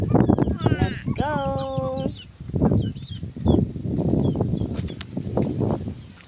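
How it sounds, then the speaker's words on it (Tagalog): Chickens cluck and squawk nearby in a coop in short bursts, with a voice talking over them at times. "Pupunta kami doon sa kulungan ng manok"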